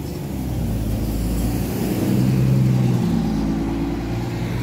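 Bus idling and pulling away at a stop on a Chisinau street, a steady close engine rumble that swells slightly midway, with no voices.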